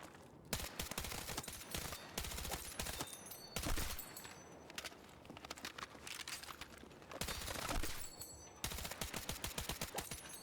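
Assault rifle fire in the Battlefield 6 video game: loud repeated bursts of rapid automatic shots with brief pauses between volleys, dense and close throughout, no talking.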